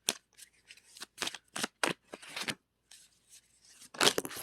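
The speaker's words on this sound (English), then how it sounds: "I'm going to pull some more cards" Tarot cards being shuffled and handled in a quiet room, a series of short papery riffles and slides in bursts with gaps between, ending in a louder flurry, no talking.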